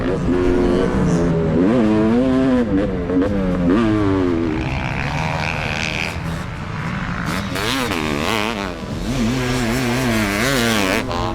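A 500cc two-stroke dirt bike screams through a hot lap on a race track, its loud, close engine revving up and down in rapid shifting sweeps with raspy two-stroke buzz throughout.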